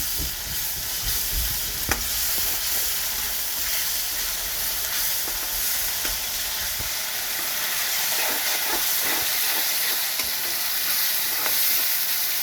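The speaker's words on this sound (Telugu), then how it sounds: "అల్లం వెల్లుల్లి పేస్ట్ బాగా ఫ్రై అవ్వాలి." Ginger garlic paste fries in hot oil for a chayote curry, a continuous loud sizzling hiss with occasional stirring scrapes and clicks over about twelve seconds.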